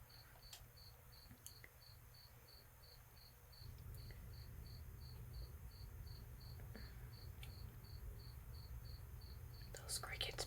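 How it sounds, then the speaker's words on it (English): Crickets chirp in a steady, evenly pulsed trill that keeps going throughout, with a low rumbling background that grows louder partway through. "Those crickets, man. They're gonna drive me insane."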